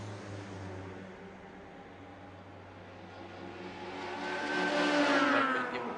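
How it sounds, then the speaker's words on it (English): Honda Civic touring race cars at a circuit sound distant at first, a low engine drone that swells into a louder passing whine with rising pitch toward the end. "Both BaTCC cars, Honda Civics as you can guess, and Petukauskas."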